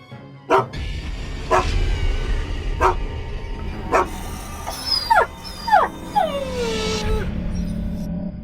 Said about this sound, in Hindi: तभी झाड़ियों में से एक कुत्ता बाहर आता है। कुत्ता जख्मी है।